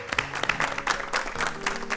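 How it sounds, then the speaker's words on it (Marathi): A television dholki competition audience claps in a brief burst of lively applause, with faint music behind it. "जोरदार टाळ्या झाल्या पाहिजेत."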